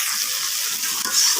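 Fish fries in a pan with a steady, close hiss and crackle of hot oil that stays even throughout, with no voices over it.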